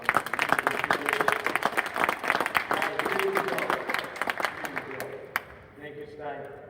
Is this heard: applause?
yes